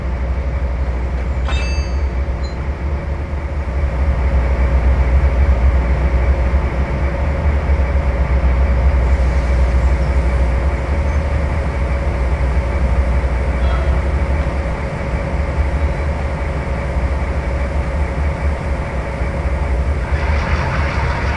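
Locomotive number 2527 runs at speed in a top-speed test, a loud, steady rumbling roar of engine and rails with a few brief squeals and a faint voice.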